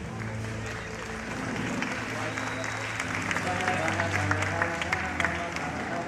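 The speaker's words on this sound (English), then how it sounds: "audience, keep your applause going" A studio audience applauds at a game show, a dense, steady wash of clapping that holds for several seconds with a few whoops and a low tone underneath.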